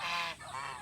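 A goose honks loudly and close by in a farmyard among chickens, a single strained, nasal call held for under a second.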